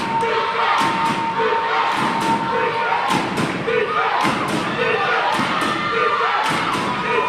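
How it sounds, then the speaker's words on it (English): Crowd noise from Panthers fans at a girls varsity basketball game against the Norristown Eagles, a steady roar of cheering and shouting with repeated thumps and stomps, an announcer talking over it. "As we see the Panthers crowd is getting into it."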